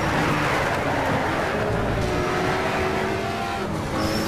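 A race car engine in the video game Need for Speed Shift, droning loud and steady throughout, with shifting pitch and faint tire noise mixed into the continuous roar.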